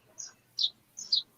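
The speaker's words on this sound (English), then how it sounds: "I have birds here." Small birds chirp outside in three or four short, high tweets, faint and at a distance, with near silence between the calls.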